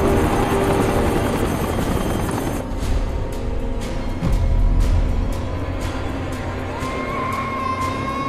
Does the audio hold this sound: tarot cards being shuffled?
no